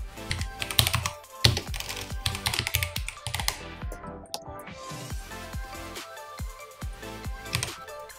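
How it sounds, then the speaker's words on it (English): Rapid keystrokes clatter on a computer keyboard while text is typed in, an uneven stream of close, sharp taps with small gaps, heard alone without talk. "Now type your text here, I type in cinematic trailer."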